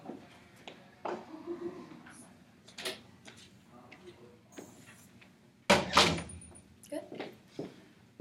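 A door shuts with a solid thud partway through, amid scattered knocks, rustling and people talking in the room.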